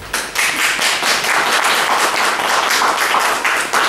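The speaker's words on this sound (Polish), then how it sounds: "Gorąco brawa." Steady, dense applause from a crowd at an honorary citizenship award ceremony in Kadzidło, Poland, many hands clapping continuously at close range for the full few seconds.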